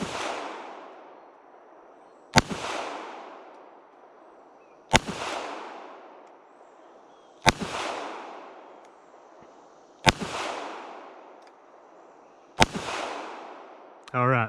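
Six evenly spaced shots from an S&W Bodyguard 380 pistol fired at a target on a range, each a sharp crack followed by a short echoing decay, about two and a half seconds apart, with no talk.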